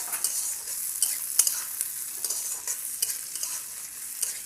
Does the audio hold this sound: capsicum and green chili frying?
yes